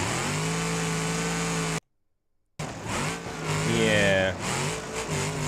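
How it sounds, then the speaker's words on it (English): A rocket-powered pickup truck in BeamNG drives a steady high engine whine that cuts out briefly, then returns rising and revving hard, with a voice speaking briefly over it. "Rocket pickup dominating BeamNG speedruns"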